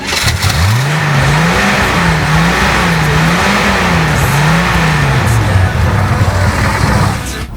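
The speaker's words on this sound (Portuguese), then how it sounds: "darmos uma acelerada neste Opalão 6 Caneco" A 1974 Chevrolet Opala Especial's six-cylinder engine revs loudly and up close, its pitch rising and falling in a steady series of throttle blips over a constant rumbling idle, with no talking.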